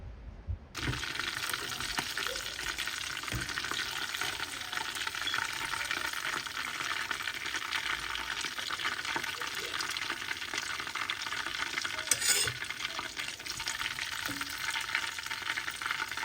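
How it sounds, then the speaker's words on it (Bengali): Chicken fried in a pan in a London home kitchen gives a steady, moderate sizzle that runs unbroken for the whole stretch, with faint clinks and a brief louder rustle near the end, and no talking. "চিকেন ফ্রাইগুলো ভাজা হয়ে গেছে"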